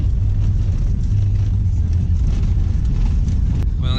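A Subaru Forester drives on a snowy road, a loud, steady low rumble of engine and road noise with wind buffeting throughout, and no talk heard.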